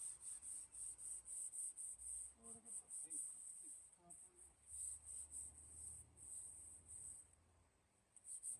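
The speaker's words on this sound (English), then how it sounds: "So explain what you're doing, bro. Sanding it down." Steady rhythmic scraping of sanding on a 30-year-old Craftsman metal toolbox, close by, with a high-pitched whine running throughout and brief low murmurs partway through.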